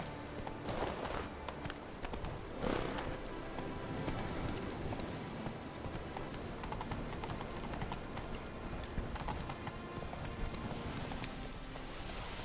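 Roach the horse gallops in The Witcher 3, giving a steady, fast clip-clop of hooves that runs without a break, moderately close amid faint outdoor ambience.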